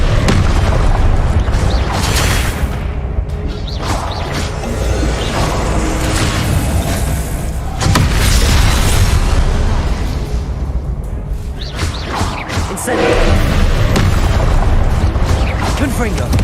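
Repeated spell blasts in Hogwarts Legacy, the Confringo fire curse, dense booming bursts mixed with game music and effects, loud and continuous with louder peaks recurring across the stretch.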